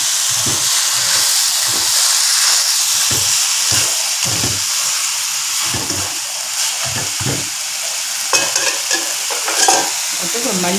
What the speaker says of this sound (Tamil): இப்போ உருளைக்கிழங்கையும் போட்டுருவோம்.